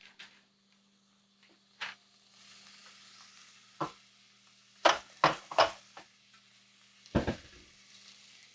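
Beef browning in a pot for a stew gives a steady low sizzle, broken by several sharp, close clanks and scrapes of a utensil against the pot, with no talking.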